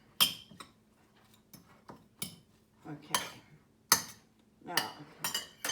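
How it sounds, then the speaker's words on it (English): Cucumber tuna salad stirred in a bowl with a spoon, a series of sharp scraping clinks against the dish at an uneven pace, close by, with a person briefly speaking. "stir it up."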